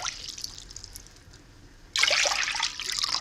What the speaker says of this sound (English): add 2 cups of warm water to this bowl